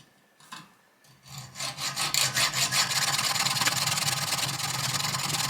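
A saw cutting through the nut and screw on a bicycle bracket, starting with a few tentative strokes, then building into fast, rhythmic rasping back-and-forth strokes that grow loud and steady.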